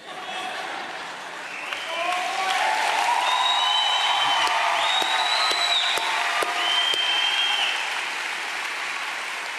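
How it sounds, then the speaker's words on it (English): An audience at the Nelson Mandela Annual Lecture in a hall applauds at length, a dense sustained roar of clapping that swells and holds, with scattered cheers and voices rising through it. "this is the longest applause we've had at the Nelson Mandela Annual Lecture"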